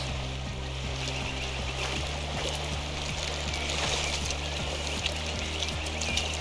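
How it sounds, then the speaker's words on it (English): A steady, loud waterfall roar from the video game Pentiment fills the scene, a continuous rushing wash of water with rhythmic musical plucks and tones layered underneath and no talking. "Waterfall's too loud."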